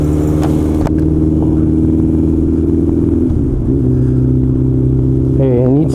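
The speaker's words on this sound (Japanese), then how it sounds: "こうバイクに一人で乗ってましてですね" A motorcycle engine drones steadily while being ridden alone on a Sunday afternoon road, loud and close, with a gear change and a brief rise in revs near the end.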